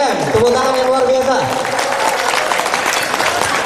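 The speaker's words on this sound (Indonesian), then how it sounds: "Tepuk tangan yang luar biasa." An audience at a Javanese ketoprak theatre performance by university lecturers and staff gives loud, sustained applause, a dense wash of clapping, while a voice speaks briefly at the start.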